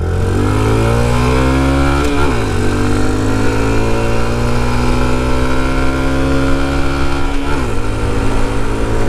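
A Honda Trail 125 Hunter Cub motorcycle accelerating hard on a back road, its engine loud and close, rising in pitch through a gear, dropping briefly at each shift, then climbing again.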